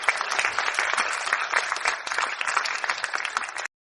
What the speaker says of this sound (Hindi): सबने तालियां बजाईं।